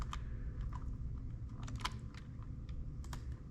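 Keys on a computer keyboard are pressed in a quick burst of soft clicks and taps while a shortcut is entered and files are exported in Illustrator, with a low steady hum from the room underneath.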